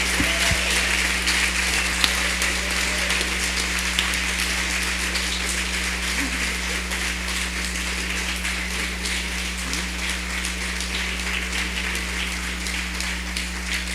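Sustained audience applause rolls through an indoor gallery after a Q&A with The Kills at Milk Gallery. The clapping is an even, continuous wash with a low electrical hum beneath it and no talk.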